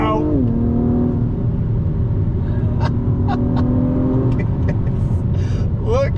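A 2021 Acura TLX Type S accelerates hard on a twisty road, the engine note climbing then dropping at a shift before pulling again, loud cabin rumble throughout with a voice speaking over it.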